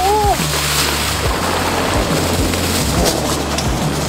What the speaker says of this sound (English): Whoa, the water is spilling out.